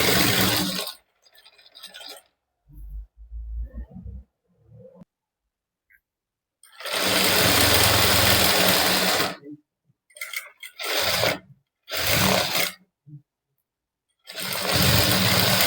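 Bursts of a close, loud motorised sewing machine stitch a dress lining, each run buzzing for a second or a few seconds and then stopping abruptly, with short quiet gaps between runs.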